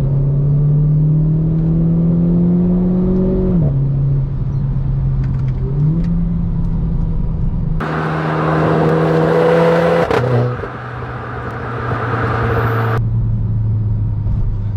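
A Renault Clio 4 RS Trophy engine revs up in rising sweeps, dropping in pitch at each gear change, loud and close with a steady throaty drone.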